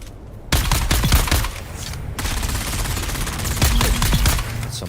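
Mauler pistol fire in Dune: Awakening, heard as rapid, close, loud bursts of shots. Brief pauses separate the bursts, and a short gap of quiet comes before the first volley.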